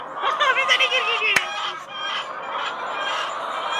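A chicken clucks in a quick, close series of bright calls near the start, then quieter background chatter and ambient noise follow, with a single sharp click in the middle.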